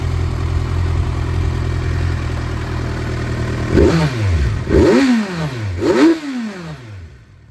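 A Kawasaki Versys motorcycle engine with an aftermarket exhaust idles steadily, then is revved three times in quick succession, each rise and fall clearly audible, before cutting off.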